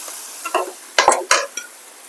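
Mutton frying in a pan while being stirred, with a few distinct bursts of sizzling and scraping strokes in a short sequence, close and moderately loud, with no talking.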